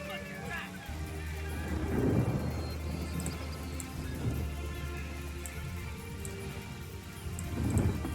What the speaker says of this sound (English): Good thing I have a rain scroll.